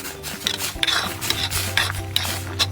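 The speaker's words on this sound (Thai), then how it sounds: "คนคลุกเคล้าให้เข้ากันอีกรอบ" A spoon stirs cucumber soup stuffed with minced chicken in a pot, giving a close, steady rhythm of scraping, rubbing strokes with light metallic clinks and a faint simmering sizzle beneath.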